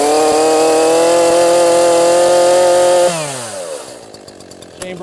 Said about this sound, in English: Immediately click the throttle to take it from fast idle to normal idle.